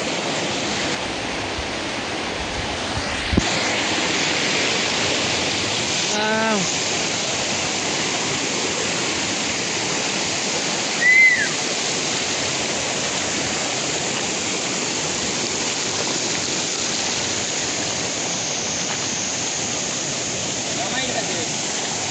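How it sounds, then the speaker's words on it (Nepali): A jungle waterfall in Gulmi, Nepal rushes as a loud, steady broadband roar that fills the whole span, with a few faint brief sounds briefly rising above the constant water noise. "यस्ता वाटरफल त कति न कति"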